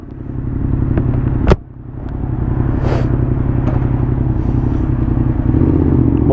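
Yamaha XSR 700 motorcycle engine running steadily at close range with a deep, even rumble, a sharp clack near the start and a slight dip before it settles back into a continuous drone.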